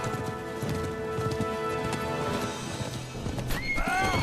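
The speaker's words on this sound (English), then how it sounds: "My horse! Not my poor horse!" A horse in the video game Kingdom Come: Deliverance 2 gives a loud, wavering neigh near the end, after a steady, busy patter of hooves and game ambience.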